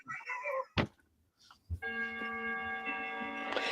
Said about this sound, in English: that's scary that that bell went off right then too